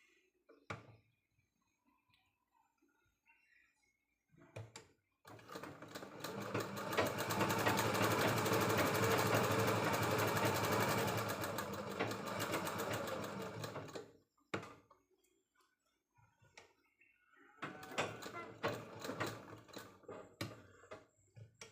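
A sewing machine stitches part of a blouse sleeve in one long, rapid, rattling burst of about nine seconds, with a shorter run near the end and quiet handling clicks between them.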